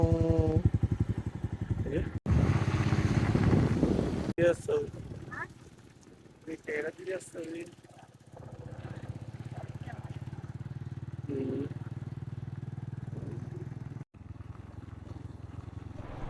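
Engine drone of a two-wheeler carrying several riders along a shortcut road near the Ramoji Film City area, running steadily throughout, with people talking over it and a brief dip in the engine noise midway.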